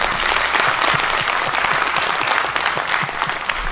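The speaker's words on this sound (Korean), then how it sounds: "하나님께 영광의 박수 올려드리겠습니다" A congregation at a Korean church gathering in New York bursts into loud, sustained applause, with many hands clapping close and continuous throughout.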